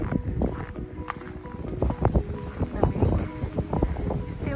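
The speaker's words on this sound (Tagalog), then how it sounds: "Mahangin." Gusty wind after a snowstorm in St. George, New Brunswick, buffeting the microphone in uneven rumbling bursts, with rustling and a voice speaking under the noise.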